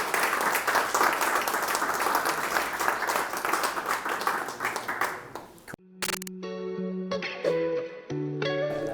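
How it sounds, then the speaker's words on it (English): A crowd at a Porsche Club Great Britain event applauds in steady, busy clapping for several seconds, which then gives way to music. "So give yourselves a big round of applause."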